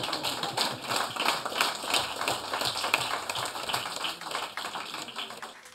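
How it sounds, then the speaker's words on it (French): Steady applause from an audience at a municipal council meeting, a dense even patter of many hands clapping at moderate distance that continues unbroken before fading slightly at the end. "on peut applaudir aussi si vous voulez"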